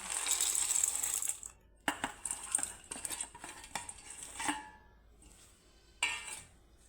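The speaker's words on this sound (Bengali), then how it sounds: "এখন নিয়েছি বাদাম চাটনিটা করার জন্য এটাকে আমি মিক্সিতে ঢেলে নেব" Peanuts tumble into a mixer grinder jar for chutney in a few rattling bursts, with hard clinks and scrapes and short pauses between pours, close and clear, with no talking.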